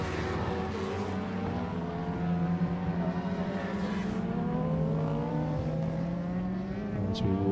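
Superbikes racing on a circuit during a Masters Superbike Championship Superbike Pro race, engines whining and sweeping in pitch as machines pass, a steady loud roar throughout with no talk.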